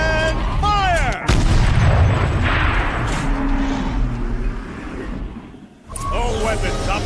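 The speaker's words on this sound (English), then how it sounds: "Rotate turret! And fire!" A mounted turret fires in Horizon Zero Dawn, a heavy blast at the start followed by rumbling, rolling echoes and mechanical whirring, with a voice speaking over parts of it.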